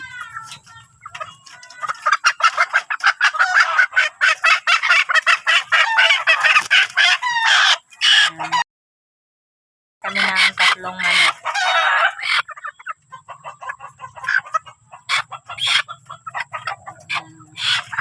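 Three chickens cluck busily and a rooster crows nearby at a house, the calls loud and overlapping, with a brief silent gap midway.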